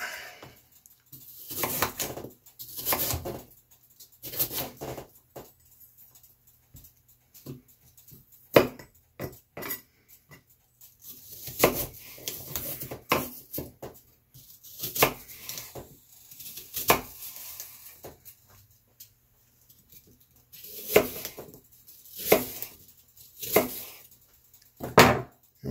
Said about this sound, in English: let's go ahead and give these a rough chop